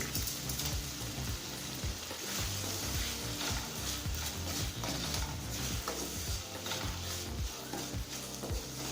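Chopped tomatoes with salt sauté in a pan for moong dal sambar, giving a steady close sizzle throughout with scattered stirring clatter and scraping, no voices.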